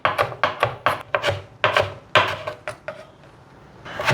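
A knife chops carrots on a cutting board in a vegetarian home kitchen, a quick series of sharp, close knocks in an uneven rhythm that stops briefly, then resumes.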